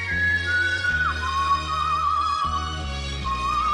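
On a TV talent stage, a performer whistles a wavering, gliding tone that imitates blowing wind. It is loud and close over steady instrumental backing chords, with no speech.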